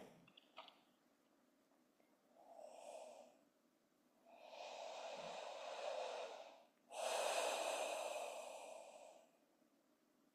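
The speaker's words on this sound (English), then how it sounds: "Keep breathing." A person practicing yoga breathes slowly and deeply, with three long, breathy exhalations of increasing length and loudness, each separated by quiet pauses.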